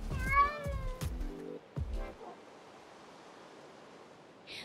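Cat named Charles meowing in a video game, two close drawn-out meows followed by a short one, then a quiet steady hiss of ambient noise.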